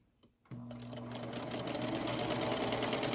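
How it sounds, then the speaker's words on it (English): A sewing machine starts abruptly and stitches quilt squares at a steady, fast, whirring pace, close and clear, running half an inch from a seam. "I'm going to do the same thing so that I'm sewing"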